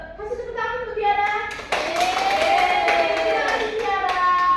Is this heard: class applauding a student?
yes